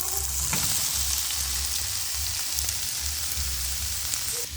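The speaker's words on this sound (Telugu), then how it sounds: "ఇప్పుడు మనం ఈ ఆయిల్లోకి పొట్లకాయ ముక్కలు అయితే వేసేసుకుందాము." Snake gourd pieces frying in hot oil with tempering spices, a dense, even crackling sizzle like light rain, close and steady with no speech.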